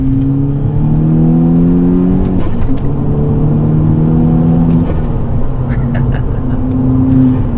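A 300 bhp Stage 1 tuned VW Golf GTI Edition 30 pulls hard in third gear from inside the cabin, its engine note climbing steadily in pitch, with a brief dip at a shift point, loud and continuous.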